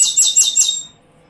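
Birds give a quick burst of bright, high chirps, three or four close together, loud and near, then fade to quiet.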